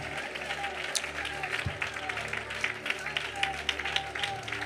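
A church congregation applauds during a Malayalam Christian sermon, a dense patter of clapping spread across the whole stretch, mixed with a voice in the background.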